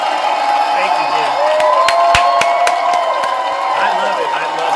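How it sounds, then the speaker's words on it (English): A crowd at an event cheers and whoops, keeping up a steady loud roar with a few sharp claps and shouts and some speech mixed in. "A huge round of applause"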